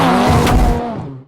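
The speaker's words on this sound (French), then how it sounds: "on essaye l'Abarth 124 Spider GT avec le toit en carbone" An Abarth 124 Spider GT with carbon roof drifting, its tires squealing loudly over a revving engine in one short, close burst that fades out at the end.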